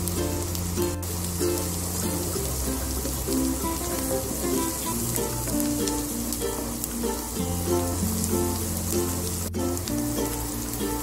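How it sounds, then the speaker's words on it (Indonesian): Chopped onion and garlic sauté in a pan with steady, even sizzling throughout, set under continuous background music with no one talking. "akan saya tumis bawang bombay, bawang putih ya, yang saya cincang"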